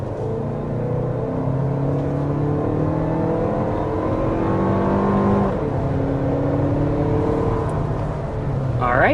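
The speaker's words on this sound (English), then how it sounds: "that's 60 miles per hour with this Lexus TX 350" A 2026 Lexus TX 350 with a 2.4-liter turbocharged four-cylinder accelerates hard to 60 mph, its engine note climbing steadily through the gears with brief dips at the shifts, heard from inside the cabin.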